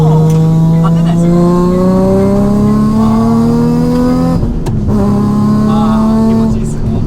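Supercharged Nissan Fairlady Z Z33 sports car, stock engine with low boost, accelerating hard: a loud, steady engine drone rising in pitch through a gear, a brief dip at the shift, then climbing again, heard from inside the car.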